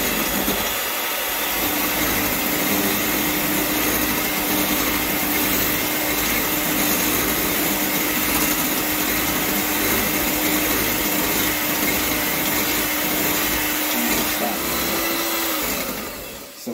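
An electric mixer whips a tiramisu cream mixture with a loud, constant motor whir that runs without a break for about fifteen seconds.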